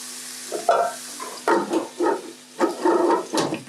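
Spinach and other leafy greens cooking wet in a pot, stirred with repeated scraping strokes in an irregular rhythm, with a soft sizzle between the strokes.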